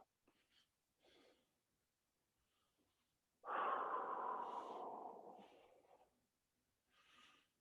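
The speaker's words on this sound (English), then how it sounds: "a few deep breaths" A deep breath during a stretch: one long, close exhale of a few seconds follows softer, brief breaths, with faint breathing before and after.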